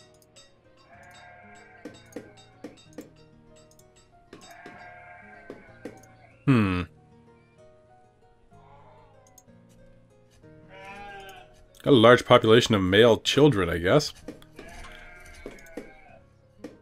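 Sheep in the village-building game Banished bleat in loud bursts, one short cry early on and a longer wavering cluster later, rising over steady game ambience while someone talks across much of it.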